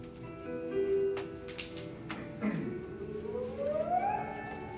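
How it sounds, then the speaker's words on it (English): A siren wails outdoors, its tone sliding slowly upward, moderately loud against background noise, with a few brief clatters and no speech. "Sirens are sounding right now."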